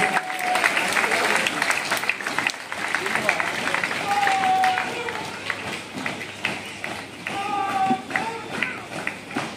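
Spectators at the India–Pakistan border parade in RS Pura, Jammu, applaud as the parade contingent moves into the ground, broad crowd clapping throughout with an announcer's voice and other sounds mixed in.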